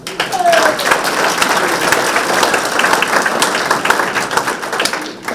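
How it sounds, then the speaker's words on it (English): A community forum audience breaks into a big round of applause, a sustained, fairly loud clatter of many hands clapping close by, with a faint murmur underneath. "And I'd like to give CMU and especially Gary Ratliff a big round of applause."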